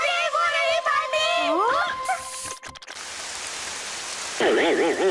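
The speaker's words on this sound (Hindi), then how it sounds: "बारिश को बंद कर दो।" Steady hiss of rain fills the background while voices talk over it, with a sudden rumble near the middle.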